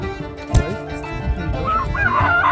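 Ducks at a countryside homestay in Nepal give a few nasal, honking quacks close by, with a short loud call early on and softer chatter after.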